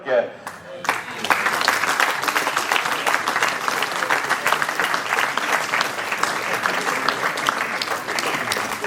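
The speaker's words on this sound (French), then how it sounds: "On va applaudir la représentante de l'ESM Pleurmel, Fatima Nog." Sustained applause fills a sports awards ceremony in Ploërmel, France, honouring athletes and volunteers: dense, even clapping from a large audience for several seconds after a brief moment of voice at the start.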